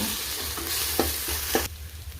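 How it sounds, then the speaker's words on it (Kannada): Ginger garlic paste fries with browned onions for a potato and pea curry, a steady sizzle under repeated scraping strokes of a spoon stirring the pan, close and moderately loud with no talking. "ಅದನ್ನು ಅಷ್ಟೇ ಹಸಿ ವಾಸನೆ ಹೋಗೋದಂತ ಚೆನ್ನಾಗಿ ಹುರ್ಕೊಳ್ಳೋಣ"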